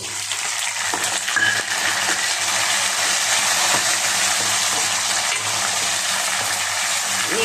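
Tomatoes frying in a masala curry pan with eggplant, a constant close hiss and sizzle that holds steady throughout, with faint scattered crackles and no speech.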